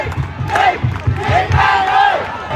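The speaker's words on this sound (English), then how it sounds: "Just listen to the crowd." A lower-league football stadium crowd cheers and chants, loud and sustained, with rising and falling sung voices over rhythmic low thuds.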